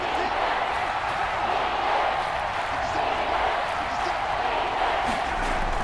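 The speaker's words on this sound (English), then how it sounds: "the crowd getting into it as we come up on a big 3rd down" Stadium crowd in a Madden NFL 22 football game builds a steady, loud roar of cheering ahead of a big third down, a continuous wash of noise that holds throughout.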